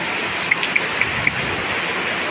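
A downpour drums on an outdoor car show with a constant loud hiss, while a few sharp drip or tap sounds land in an even row over the rain.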